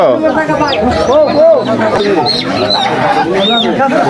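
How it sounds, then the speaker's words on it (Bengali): Shrill peeps of local chicken chicks ring out repeatedly amid busy, overlapping chatter of people talking nearby. "দেশি মুরগির বাচ্চা"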